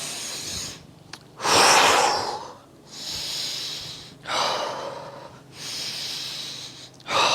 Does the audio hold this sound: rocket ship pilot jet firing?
no